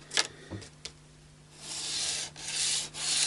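Sandpaper lightly rubs over the finish of a Harley Benton SC Custom electric guitar to remove permanent marker, a few short scratchy strokes followed by a longer, steady hiss of sanding, close up.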